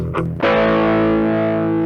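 A sustained electric guitar chord through a digital distortion effect on a DIY amp rings out after a brief lead-in, its gritty, fuzzy tone holding steady and loud without fading.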